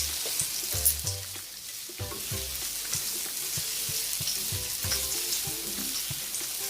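Sweet and sour chicken with pineapple sizzles steadily in a pan, a close and even frying hiss with occasional stirring clatter and no voices.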